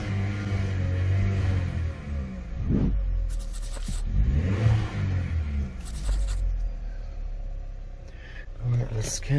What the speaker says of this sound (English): Okay, rev it.